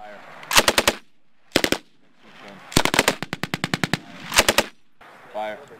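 Machine gun fire from 173rd Airborne Brigade soldiers on a range in Slovenia, loud close bursts of several rapid shots separated by short pauses, including one longer run of evenly spaced rounds.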